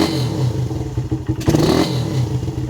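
Motorcycle engine fitted with a 30mm OKO carburetor, revved hard at full throttle, a loud close rasping roar rising and falling in quick surges.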